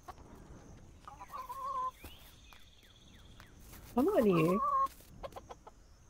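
A free-range chicken in the farming game Dinkum clucks in short bursts, one louder rising squawk near the end, while a person briefly talks.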